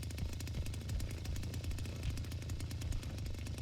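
Chainsaw in the Texas Chainsaw Massacre video game, a rough, loud, close engine rattle with rapid pulsing chatter, running continuously throughout with no voices.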